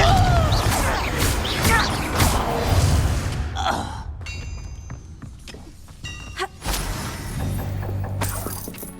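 Confringo fire spell blasts in Hogwarts Legacy combat, with loud bursts and crackling impacts amid busy battle noise, followed by quieter scattered hits and shattering clatter.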